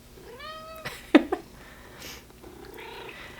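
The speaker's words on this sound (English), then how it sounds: "And so if you guys hear purring" A cat purrs softly up close, broken by a couple of short meows and a brief rustle, with no talking.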